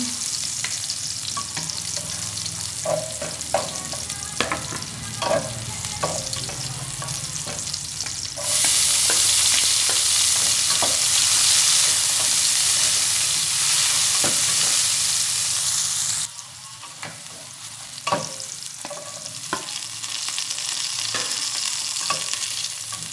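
Pork innards frying and being stirred in a pan, a steady close sizzle broken by repeated scraping stirs, with one stretch of loud, continuous hiss in the middle before the sizzle drops back to a lower level.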